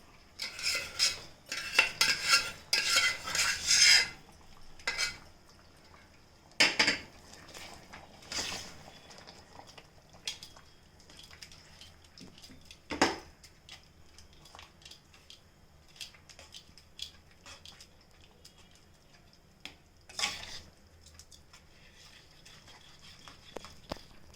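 A spoon stirs a rice and moong dal mixture into sugar syrup in a pot for temple-style chakrapongali, with busy scraping and clattering at first, then scattered clinks and knocks against the pot over a quiet background.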